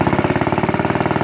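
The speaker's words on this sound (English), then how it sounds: "you hear the change in RPM, because the air gets sucked through this from the fan" The engine of an Eclipse Racket reel mower runs hard with a fast, even pulsing drone, loud and close, its pitch shifting slightly as the RPM changes.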